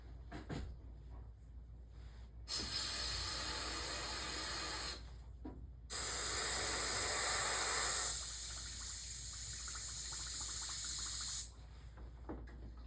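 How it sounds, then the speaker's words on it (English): An airbrush sprays solvent-based paint, clearing the color out in two loud, steady hissing bursts a few seconds long, close by, with quieter gaps between. "Run the color out of this airbrush here."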